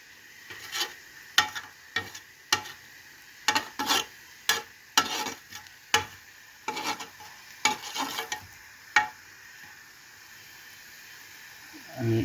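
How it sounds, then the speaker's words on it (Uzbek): A ladle stirs osh rice pilaf in a pot, giving a dozen or so soft scraping and clattering strokes at irregular intervals over a faint steady sizzle, close by, with no talk. "2 marta aralashtirib oldik qoshuvda yengil."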